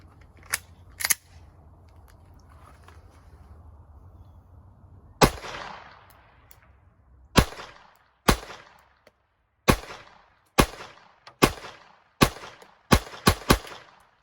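Glock 44 pistol in .22 Long Rifle firing about a dozen sharp, loud shots at irregular intervals, first two spaced out, then a steadier run of rapid cracks near the end.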